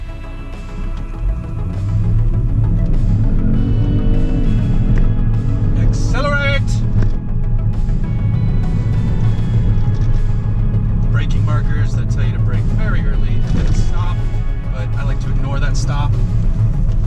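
A 2018 Kia Stinger GT with automatic gearbox and traction control off accelerates hard on a launch run, loud engine roar rising through gear changes, with a driver talking over it.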